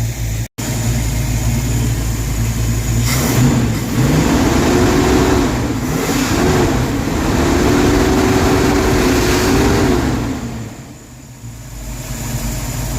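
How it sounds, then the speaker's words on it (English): A Ford Mustang engine, with a low battery reading, idles loudly and is revved up, the pitch climbing and wavering through several seconds before dropping back toward idle. "Let me see what happens when I rev it up."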